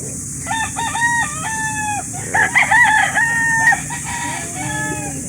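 Several roosters crow close by at a chicken market in Calauan, Laguna, Philippines, long overlapping calls one after another, with a murmur of background noise and occasional clucks.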